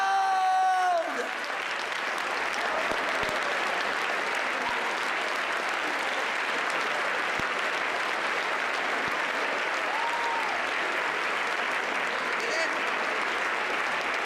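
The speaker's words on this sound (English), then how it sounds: "Oh, they got a whole 7 claps from the president." Sustained applause from a large audience at the White House Correspondents' Dinner, a steady dense wash of clapping continuing evenly throughout after a brief opening tone.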